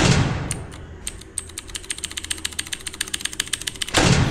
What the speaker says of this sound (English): Y'all hear my keyboard?